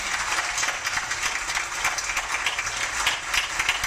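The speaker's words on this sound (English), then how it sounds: "please give a couple more rounds of applause" Continuous, fairly faint audience applause after a screening of the film Still Standing, an even wash of many hands clapping steadily throughout.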